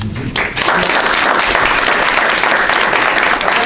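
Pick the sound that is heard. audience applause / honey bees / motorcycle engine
audience applause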